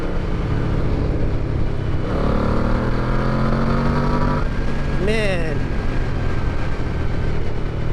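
A 2002 Yamaha VMAX muscle bike engine held at about 4,000 RPM, a loud steady throaty drone close by that rises in pitch, with someone speaking briefly over it.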